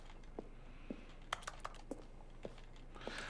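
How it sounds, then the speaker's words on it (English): Someone types on a computer keyboard at a quiet distance, with scattered soft key clicks arriving at an irregular rhythm over faint background hiss. "I'm hearing my own keyboard sounds"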